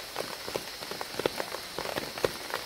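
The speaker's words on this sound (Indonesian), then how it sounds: "hujan gerimis." Light drizzle falls at a semi-wild campsite at Gunung Panti, a soft continuous patter of scattered drops with a few closer, sharper taps and no talking.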